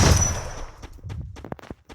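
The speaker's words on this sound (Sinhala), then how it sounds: "මම ජම්පි ෂොට් එකක් ගහන්න බලමු" Gunfire from a jump shot in a mobile shooter game, a sharp burst that decays quickly into a rapid, irregular string of shorter shots, close and clear with no talking.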